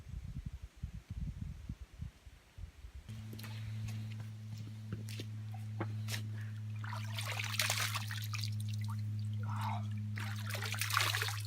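A creek trickling through a wooded bottom beside a bushcraft campsite: faint babbling water comes through alongside footstep crunches, later masked by a steady low hum and scattered rustling.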